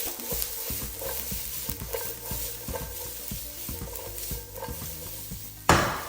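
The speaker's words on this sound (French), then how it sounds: "on va venir faire suer les oignons" Onions sweating without colour in a pan for a bolognese, a gentle sizzle under repeated rhythmic stirring scrapes and light utensil knocks, ending in a sharp clatter.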